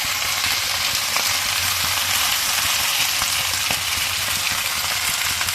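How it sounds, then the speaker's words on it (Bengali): Malabar spinach flowers and dried shrimp frying in a pan give a steady, loud sizzle with faint crackles and occasional stirring scrapes, alone and unbroken for several seconds. "এখন নাড়াচাড়া করে এটা আমি ভেজে নেব।"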